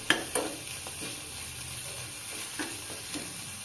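Onions frying with coriander leaves in a pan for lentil dal, giving a soft steady sizzle with occasional utensil clinks and stirring scrapes, fairly faint and with no talking.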